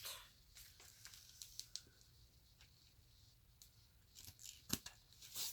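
Scissors cutting paper while a Hobonichi A5 Cousin planner is being set up, a series of soft close snips and crisp cuts, irregular, with a louder cluster near the end.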